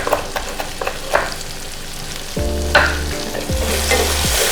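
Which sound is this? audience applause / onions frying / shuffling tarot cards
onions frying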